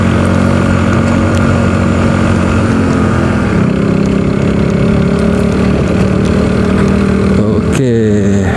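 Self-restored motorcycle engine running steadily and loud at close range on a night ride, a constant droning hum that shifts slightly in pitch midway, ending with a quick descending whine.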